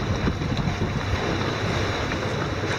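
A Magnum 18 trimaran sails in light wind on the Gulf of Morbihan, with steady wind rush against the microphone and a continuous wash of water along the hulls, and no one talking.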